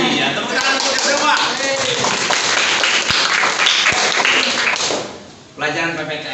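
A classroom of students claps together during a civics quiz lesson, a dense burst of applause that runs for several seconds, thins out briefly near the end, then picks back up with voices mixed in.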